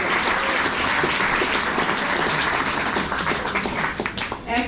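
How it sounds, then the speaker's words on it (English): A live music audience at The Ark, a small concert venue, claps in a dense, sustained round of applause that thins toward the end, leaving scattered individual claps. "give yourself and the members next to you a round of applause"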